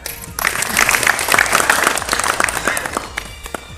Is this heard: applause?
yes